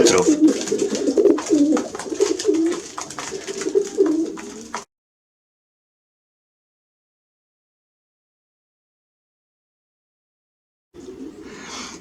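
Racing pigeons coo in a loft in a dense, overlapping chorus close by, then fall silent for several seconds before the cooing resumes more softly.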